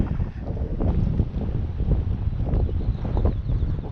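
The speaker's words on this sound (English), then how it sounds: "If the wind would die down, it'd be almost perfect." Strong wind gusts buffet the microphone on a high-country mountain hike, a continuous loud roar with rising and falling surges and no voices.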